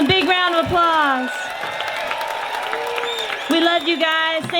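Outdoor bluegrass festival audience at the Grass Valley fairgrounds clapping and cheering for the Slocan Ramblers, a steady wash of applause under someone speaking loudly over it.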